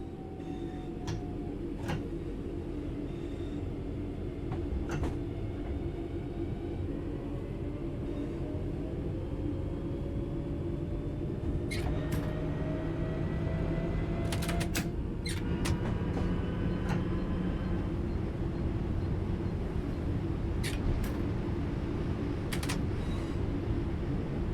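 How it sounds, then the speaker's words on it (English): A train coasting on level ground in the Train Sim World 4 game: a steady low rumble of wheels on rail with scattered clicks and ticks over the track, continuous and fairly close throughout. "The train will then coast on level ground, and the train will only slow down very gradually."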